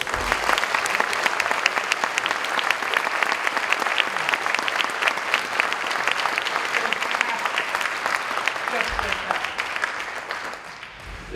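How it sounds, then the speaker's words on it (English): Audience at a school music association jazz night applauding a music teacher, a long, sustained round of dense clapping that eases slightly near the end. "Let's give him a round of applause."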